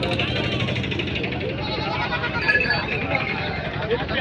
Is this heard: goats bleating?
yes